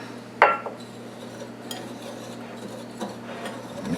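Flour, sugar, baking powder and salt being mixed together in a bowl for an apple skillet cake, a single sharp clink of a utensil followed by faint scraping and stirring, close and quiet.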